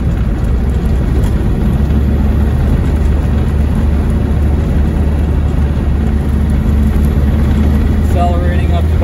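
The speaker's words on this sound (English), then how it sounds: "So there's third gear, accelerating." A 1990s Land Rover Defender 110 Tdi diesel accelerating in third gear, with a steady loud low engine drone and cabin rumble throughout and someone talking over it.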